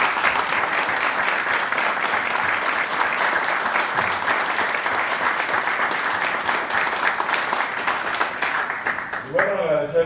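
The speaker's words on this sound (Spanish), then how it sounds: "les damos un fuerte aplauso" Loud, sustained applause from an audience at an institutional training workshop, steady dense clapping for about nine seconds before it fades and a voice begins talking at the end.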